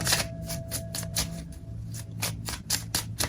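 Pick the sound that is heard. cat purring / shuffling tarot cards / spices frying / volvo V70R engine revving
shuffling tarot cards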